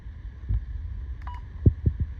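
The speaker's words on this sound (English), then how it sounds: "And then beeps, you can turn those off" A Midland XT511 radio gives a few quiet menu beeps, one short clean electronic tone standing out, mixed with soft button clicks and handling thumps near the mic.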